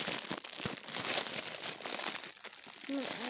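Crinkly plastic wrapper on a Milkstoys surprise toy egg being torn open by hand, a continuous close crackling and rustling for several seconds with a voice briefly talking near the end.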